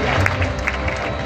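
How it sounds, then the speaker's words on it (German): An audience in a circus tent applauds a giant horse, a brief burst of crowd clapping with some cheering mixed in. "Empfangen Sie bitte unseren Goliath mit einem kräftigen Applaus."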